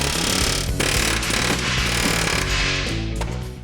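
Rivets are driven out of a trailing arm crossmember on a 1971 Chevy C10 truck frame with loud, rapid, continuous pneumatic hammering that chatters close by almost without pause.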